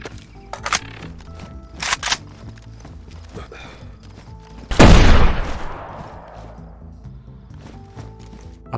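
Rifle fire in the video game DayZ: scattered sharp shots early, then one big booming report around the middle that rolls off into a long fading echo, over a low droning game ambience.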